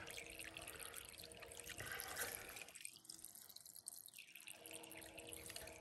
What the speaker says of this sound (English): We have a constant flow of water.